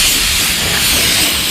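Compressed air blasting onto a primed plastic bumper: a loud, continuous broadband hiss held steady throughout, close to the nozzle, with no talk.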